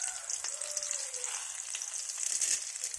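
Chopped onions and curry leaves frying in a pan, a bright steady sizzle with light stirring, close and continuous, with no voices.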